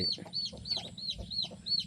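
A fighting rooster on a Thai farm gives a quick run of rhythmic clucks, about six evenly spaced calls close to the microphone, with no voices over them.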